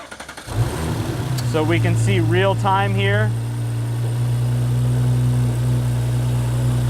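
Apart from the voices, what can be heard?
Audi B9 car engine starting and idling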